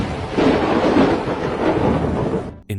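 Violent midnight thunderstorm: a loud, continuous roll of thunder over heavy rain, dense and rumbling, cutting off abruptly near the end.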